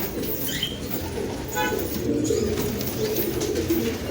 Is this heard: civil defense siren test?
no